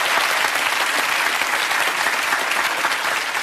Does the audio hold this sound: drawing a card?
no